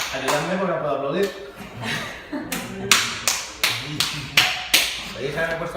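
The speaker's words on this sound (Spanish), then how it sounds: "Veis que me he puesto el reto de aplaudir" A man tries to clap his hands, producing a series of sharp, fairly loud claps at an uneven rhythm that quickens toward the end, with a voice talking before and between them.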